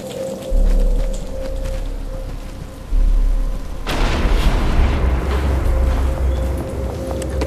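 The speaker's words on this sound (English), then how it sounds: "But it's starting to rain." Rain in the Xbox 360 game Batman Arkham Asylum begins as a steady hiss over low rumbling, then swells into a louder, denser wash of noise that continues to the end, with no one talking.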